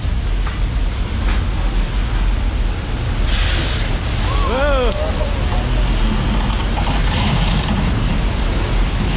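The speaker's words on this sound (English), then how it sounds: "We're gonna create a flash flood right here on set." Staged flash flood on a Universal Studios tour set, thousands of gallons of water pouring down a hillside: a loud, steady rushing roar of water filling the whole stretch, with crowd voices and a brief whistle-like sound partway through.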